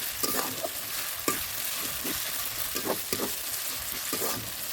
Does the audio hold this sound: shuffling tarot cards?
no